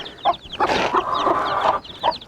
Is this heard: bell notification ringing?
no